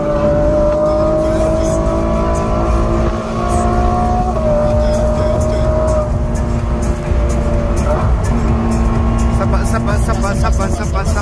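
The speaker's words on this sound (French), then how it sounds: "La Ferrari elle veut pas. Ça gueule hein, quand même." A Ferrari engine roars loudly and continuously, revving and shifting as the car drives along a road, with people talking over the engine noise.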